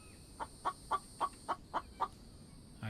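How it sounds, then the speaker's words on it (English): A video game chicken gives a quick run of seven evenly spaced clucks, fairly faint against a quiet background. "I can hear the chicken."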